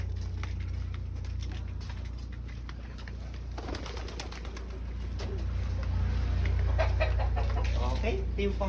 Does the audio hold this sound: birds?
yes